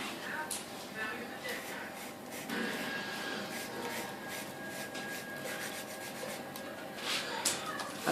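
Soft, quiet rasping strokes of chocolate being grated by hand over an iced cake, continuing in a steady uneven rhythm, close and faint.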